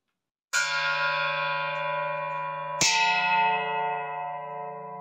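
A spent artillery shell casing from Mariupol is struck like a bell twice, each hit producing a bright metallic clang that rings on in a long, steady sustain, close and loud with no talk.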